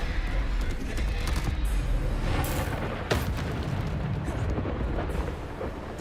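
A Bombarda spell blasts in Hogwarts Legacy, a loud rumbling explosion with a sharp burst partway through, sustained and fading toward the end.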